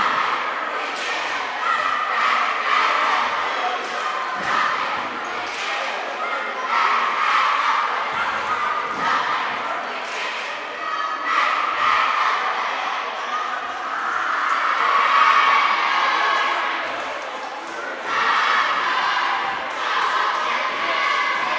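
Rival fans at a boys' high school basketball game trade chants and cheers in a gym during a stoppage, a loud, sustained crowd roar that swells and dips in waves for about twenty seconds.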